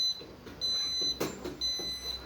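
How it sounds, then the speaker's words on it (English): A power wheelchair reversing emits repeated high electronic beeps in a steady on-off pattern, fairly close, with a faint hum of the chair beneath and a brief click midway. "I'm gonna have him come out and get rid of the stupid beeping."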